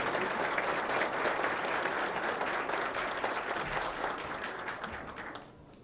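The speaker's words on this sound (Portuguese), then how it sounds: "receba os nossos cumprimentos na expressão de uma salva de palmas" Sustained applause from a seminar audience at a national transport conference opening, dense and steady clapping filling the room before fading out near the end.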